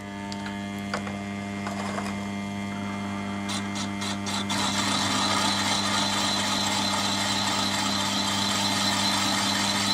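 A gem carving tool cutting into a stone, a steady motor hum with a faint grinding whine that turns harsher and louder about halfway through, after a few light ticks, with no talking.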